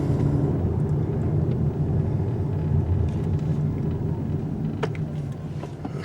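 A 2023 Lexus UX 250h hybrid drives along a dark, dingy street at night, giving a steady low road and engine rumble heard from inside the cabin with no talking.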